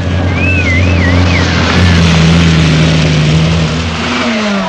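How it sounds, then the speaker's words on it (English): A Lancia Stratos rally car engine drones loudly and steadily with a rising and falling revving tone, mid-pitched and close, while a voice speaks over it. "And Billy Coleman, hero of all Ireland, is back at the wheel of the Lancia Stratos."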